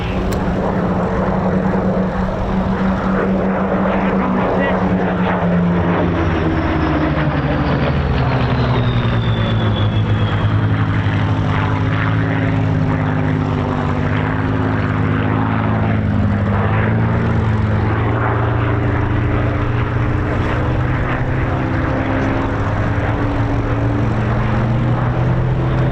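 Spitfire Mk IX MH434, a propeller fighter, flies a display at the 2024 Old Buckenham airshow, its piston engine droning loud and continuous overhead with a slowly shifting pitch as it passes.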